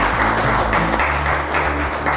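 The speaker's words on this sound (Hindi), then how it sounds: "जोरदार तालियां" Studio quiz-show audience applauding a correct answer about a historic monument, a steady dense burst of clapping that fills the whole moment without talk.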